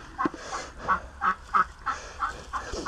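A duck from a backyard flock raised alongside hatched geese quacks in a steady rhythm, about nine short honking calls close to the microphone with no talk over them.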